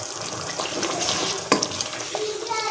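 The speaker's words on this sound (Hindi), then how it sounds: "मिक्स हो जाए और इसकी 2 से 3 मिनट हमने अच्छी तरह से भुनाई करनी है।" Egg biryani masala stir-fries with whole boiled eggs in a pot, giving a continuous close sizzle broken by one sharp metallic clank of a spoon against the pot.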